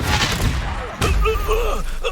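Spell combat in the Hogwarts Legacy video game, with the Confringo fire spell going off as a sharp blast, followed by a second burst and crackling magical effects.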